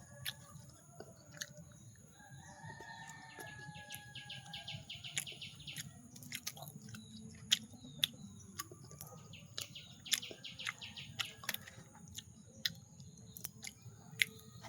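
Someone quietly chews crunchy nimki, a snack fried in dalda, with irregular crisp bites and crackles while birds chirp faintly in the background.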